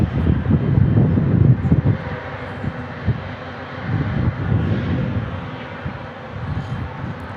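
A British Airways Boeing 777-300 jet takes off at San Diego International Airport, a broad low engine roar that swells, then slowly fades into the distance with wind noise, no voices.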